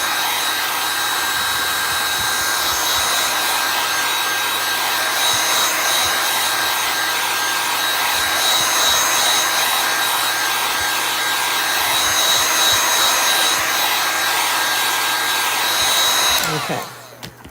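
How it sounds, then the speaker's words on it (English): A high heat craft tool blows a steady, loud, even whoosh of hot air over a damp chalk craft project, running close and unbroken with no talking until it cuts off near the end. "when I need to make something dry quickly, I go to my high heat tool."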